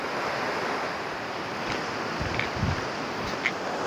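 Water from a stream near a waterfall in the hills of Ziro, Arunachal Pradesh, gives a steady, loud broadband rush with no pauses. A few faint clicks and low bumps sit on top, and no one speaks.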